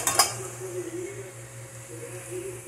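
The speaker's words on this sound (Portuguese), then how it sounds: "aqui eu já estou fritando bife" Liver steak frying in a pan in a home kitchen, a soft steady sizzle with a brief clink of utensils against cookware at the start.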